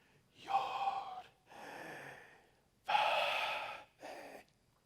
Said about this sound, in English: This is the sound of our breath.